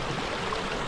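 A river streams steadily along a hiking trail in the Vosges mountains of France, a continuous close rushing wash of water with no voices over it.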